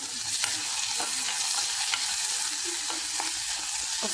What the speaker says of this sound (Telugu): ఒక నిమిషము వీటిని వేయించుకోవాలి